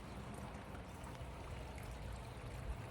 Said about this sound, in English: Hear water falling into the catchment?